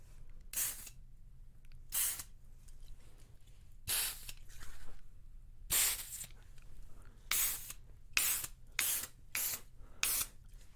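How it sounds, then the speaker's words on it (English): Repeated bursts of hissing aerosol air freshener spray, about ten short and long sprays in an irregular rhythm, close and clear against a quiet room with windows closed. "we need a little bit of air freshener in here with all the windows closed"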